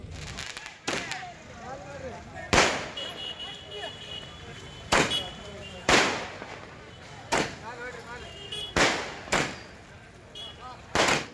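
Firecrackers burst one after another at a farmers' protest celebration in Gadag, about a dozen sharp, loud cracks spaced irregularly a second or two apart over a crowd murmur.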